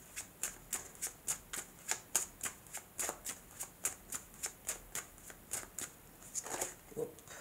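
Lenormand cards being shuffled for a card reading, a quick series of crisp riffling bursts in an even rhythm, close and fairly quiet, with no talk over them.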